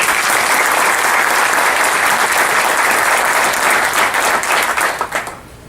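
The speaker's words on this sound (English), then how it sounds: "Please join me in a round of applause" Hearty applause from a conference audience at the 2013 MGA Presidents Council, given in thanks to the event staff, rolls on as a thick, even wash of clapping before tapering off near the end.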